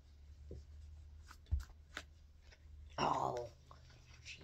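A tarot card deck is shuffled at close range, giving a short rustling, riffling burst of cards partway through, with soft scattered handling noises before it.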